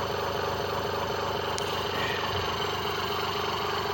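Modified hoverboard BLDC motors run and idle steadily in a looped setup, a constant rapid mechanical buzz and rattling hum with a brief click partway through.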